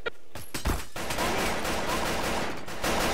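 Rapid bursts of gunfire in a Garry's Mod roleplay shootout, several sharp shots early and then a dense, sustained crackle of automatic fire that continues to the end without a break.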